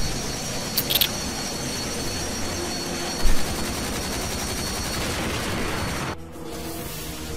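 A helicopter in the video game MindJack gives a loud, steady engine roar and rotor wash throughout, with a brief thump midway, and the noise drops off abruptly near the end.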